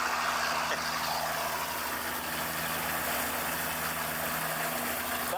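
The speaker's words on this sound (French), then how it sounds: "c'est un tracteur" Tractor engine running steadily on a farm, a continuous low rumbling drone with a constant idling tone, fairly loud and close, with no talk over it.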